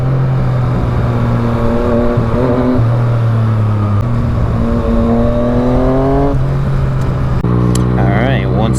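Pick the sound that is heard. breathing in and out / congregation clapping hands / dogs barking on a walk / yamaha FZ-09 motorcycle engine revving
yamaha FZ-09 motorcycle engine revving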